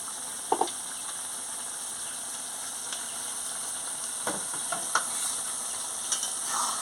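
Posto curry with ridge gourd, potato and pointed gourd being stirred after a drizzle of mustard oil, a faint steady sizzle with sparse scraping strokes of the spatula, close and quiet with no voices.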